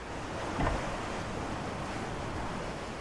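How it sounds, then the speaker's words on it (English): Ocean waves wash steadily against a sailboat moving under mainsail in open water on an easterly breeze of about 15 knots, with continuous wind rush over the microphone and one brief louder surge. "The waves are picking up because now we are out of the shelter of Ragged on this easterly wind"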